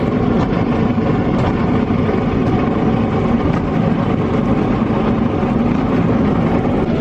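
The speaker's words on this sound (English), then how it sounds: "Definitely sounds like he's got some grass in his motor" A small outboard boat motor runs steadily on a grassy Amazon river near Boca da Valeria, Brazil, its rough, continuous drone loud and close and sounding slightly labored, as if choked by grass in the motor.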